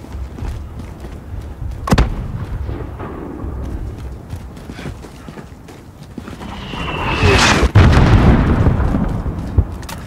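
Gunfire and explosions in the Call of Duty Modern Warfare video game, loud sharp shots and booming blasts over a rumbling battlefield background, with a whooshing rise and a heavy burst near the end.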